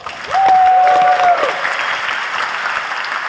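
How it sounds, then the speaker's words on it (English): A live audience applauds after a pitch at a startup competition grand final, a loud burst of clapping that swells quickly, then eases into steadier applause, with a brief tonal whistle over the start. "Thanks a lot. Round of applause."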